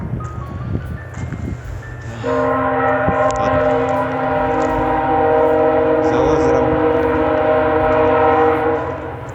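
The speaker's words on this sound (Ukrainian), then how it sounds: "Це чуєте, потяг їде." A freight train by a lake near Halifax, Canada, sounds a long, loud sustained horn over a steady rumble, with a voice faintly underneath.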